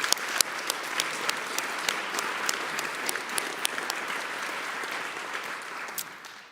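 Applause at a media freedom conference honoring a Nobel Peace Prize laureate and colleagues, steady clapping from a seated audience with crisp individual claps, gradually thinning toward the end.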